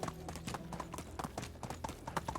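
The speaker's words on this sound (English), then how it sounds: "A horse." Horse hooves clip-clop at a steady walking pace in the video game Medieval Dynasty, a quiet, even rhythm of hoof strikes with no voices.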